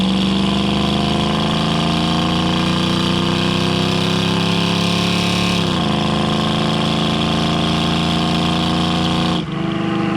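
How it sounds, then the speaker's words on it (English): A 1969 Ford Mustang coupe with its original 302 V8 and automatic transmission runs loud and close, holding a steady rich engine drone with a gradual rise in pitch, a brief dip and a second rise near the end. "We'll get in the throttle here real quick."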